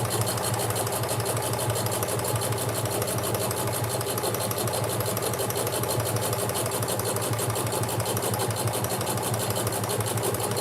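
A sewing machine runs steadily through a late-night stitching session, a continuous fast mechanical whir with an even, rapid pulse that holds at one loud level from start to finish, with no speech.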